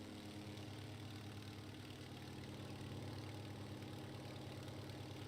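The nine-cylinder, 1,000-horsepower radial engine of an Antonov An-2 biplane runs in a steady, low, throbbing drone with a pulsing rumble, heard alone and somewhat muffled.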